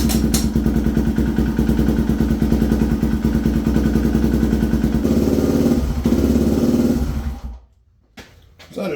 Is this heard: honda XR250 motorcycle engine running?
yes